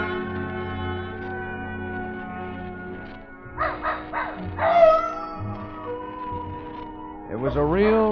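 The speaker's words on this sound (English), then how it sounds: "Old Nugget the dog was carrying on a long-distance conversation with his country cousins, the coyotes up in the hills" A dog howls and barks at night in an old-time radio drama, with drawn-out wavering howls and short yelps over a sustained musical background, partly in the middle and again near the end.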